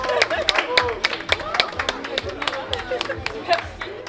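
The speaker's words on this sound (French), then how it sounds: "On va applaudir encore très très" An audience at a comic book festival raffle applauds the winner, with sharp, regular claps over a low rumbling background and a voice talking over them.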